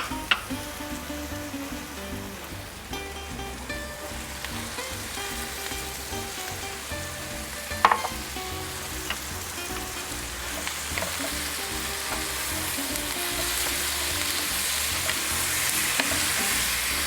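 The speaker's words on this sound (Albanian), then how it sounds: "Dhe tani po i lëm që të skuqen së bashku komplet." Steady sizzling of onion, garlic and tomato frying in a pan, continuous and close, with occasional clinks of a stirring utensil.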